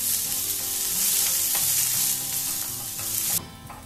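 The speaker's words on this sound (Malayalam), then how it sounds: "ഹൈ ഫ്ലെയിമിലിട്ട് സവോളയെ വേഗം വേഗം വഴിച്ചെടുക്കാവേ" Chopped onions sautéing fast on high flame, a loud steady sizzle with spatula stirring scrapes that drops off abruptly near the end.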